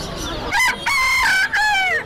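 Chickens at a busy poultry market crow and cluck close by, several loud, drawn-out calls in quick succession with clucking between them and no clear talk.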